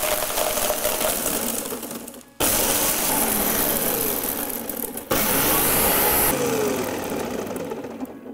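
A loud electric blender crushes ice for a frozen Pisco Sour: a dense, grinding roar that runs throughout in three bursts, with brief dips between them as the motor changes.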